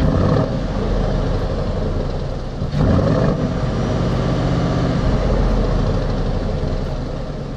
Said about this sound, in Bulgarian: Динамичното поведение се подчертава от звука, който идва от изпускателната система.